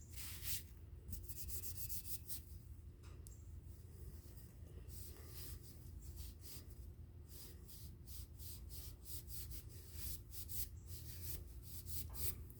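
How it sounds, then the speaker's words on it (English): A Scotch-Brite pad rubs over a motorcycle swingarm pivot shaft in a steady, close scrubbing rhythm with short strokes, continuous and moderately quiet throughout. "I'll go over it with a little Scotch-Brite pad here too."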